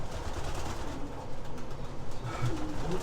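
Racing pigeons at a loft, with soft cooing and light fluttering over a steady background rumble, a few brief low calls standing out near the end.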